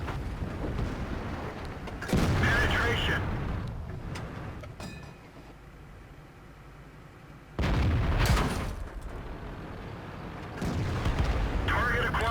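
Tank cannon shots firing premium gold rounds in the World of Tanks video game, aimed at a Super Pershing's turret, come as two heavy booming blasts several seconds apart, each followed by a rumbling tail, with game noise between them.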